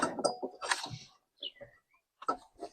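A plastic belt cover on a GT Rider 196T scooter flipping open during belt replacement, heard as a few close creaks and clicks at the start, with brief quieter mechanical ticks and clacks after a pause.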